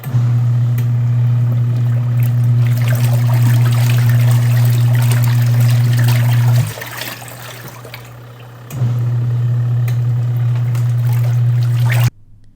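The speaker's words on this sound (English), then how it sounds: "You'll hear water sloshing and a consistent humming sound from the motor." An Auertech 28lb twin tub portable washer on its wash cycle, with water sloshing and a steady low motor hum that cuts out briefly partway through and then resumes, heard close up with no other background noise.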